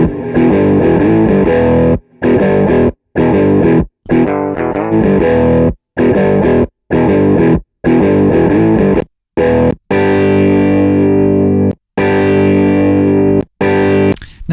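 Distorted electric guitar through a UAD Marshall Bluesbreaker 1962 amp plugin, played loud in choppy, repeated chord bursts split by short silences, with a longer sustained ring near the end.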